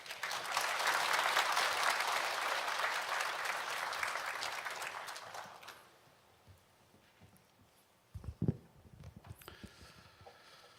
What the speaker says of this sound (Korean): 환영합니다 의미로 박수로 맞이하시겠습니다.